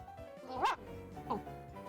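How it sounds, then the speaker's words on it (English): A small dog lets out two sharp, high yaps about half a second apart, close by and fairly loud against a quiet room. "Oh, that's a dog. That's like an evil dog."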